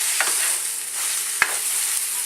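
Pork sausage sizzles and hisses in a very hot pan, a continuous frying crackle with a couple of brief stirring scrapes, close and steady, no talking.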